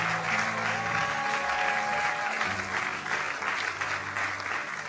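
An audience at a speech gives loud, continuous applause, dense clapping that holds steady throughout, with some crowd murmur underneath.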